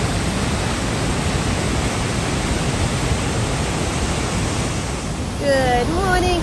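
A waterfall in the forested park of Ranomafana gives a steady, dense roar of rushing water, close and constant throughout, with a voice briefly speaking over it near the end.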